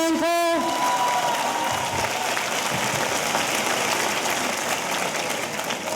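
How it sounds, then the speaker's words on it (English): Audience applause at a college commencement ceremony, a dense sustained wash of clapping from a large crowd that begins right after a brief amplified voice and continues steadily. "Can we get a round of applause for the great president of the Queensborough Community College, Cheyenne Cole?"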